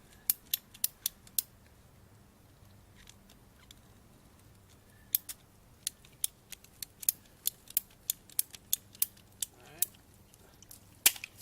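A pipe cutter snipping through a water pipe while replacing a backflow preventer gives a run of sharp, crisp clicks in two bursts, close and fairly quiet over a low hum, with no talking.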